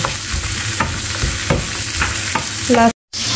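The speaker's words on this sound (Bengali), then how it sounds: "এখানে হচ্ছে পাকোড়া ভাজা হইতেছে, ভেজিটেবল পাকোড়া" Vegetable pakora frying in hot oil at an Eid-night street food stall, a steady crackling sizzle with scattered bursts and background bustle, then a brief cut to silence near the end.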